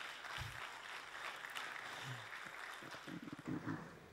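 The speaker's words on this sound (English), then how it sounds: "An applause." An audience applauds a panelist being welcomed at an entrepreneurship roundtable, a steady wash of clapping with a few low thumps, fairly faint and continuous throughout.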